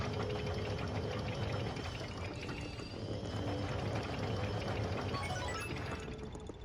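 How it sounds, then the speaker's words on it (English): Water rushing after valves are turned in Luigi's Mansion Dark Moon, a loud steady pouring flow with a faint mechanical hum that fades slightly at the end. "let's turn these valves and make our way up"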